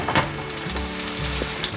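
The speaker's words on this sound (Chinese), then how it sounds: "把苦瓜放进来煎，用小火慢慢的煎" Bitter gourd slices fry in a little oil in a pan over low heat, giving a steady, close sizzle with faint crackles.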